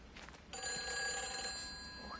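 A telephone rings in a video game, a steady electronic bell tone starting abruptly and sounding continuously and fairly close, with no talking over it.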